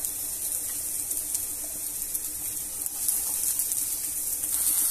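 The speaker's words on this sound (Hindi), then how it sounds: "एक पैन में मैंने 1 टीस्पून ऑयल लिया, इसमें मैं प्याज को शामिल करूंगी और हल्का सा इसको सिर्फ फ्राई करूंगी।" Onion frying lightly in a teaspoon of oil in a pan gives a steady, faint, hissing sizzle that stays even throughout, with no talking.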